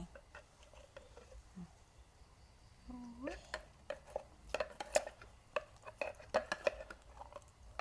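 A cooking pot clinks and scrapes quietly as homemade mushrooms are dropped in for a Thai rural meal, with a series of small knocks and rattles growing busier toward the end.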